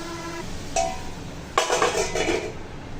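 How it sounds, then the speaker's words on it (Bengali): A metal lid is set onto a pan of simmering fish curry, giving a short clink followed by a brief rattling clatter as it settles, close by in a quiet kitchen. "তো চলো একটু ঢাকনা দিয়ে ঢেকে দিই।"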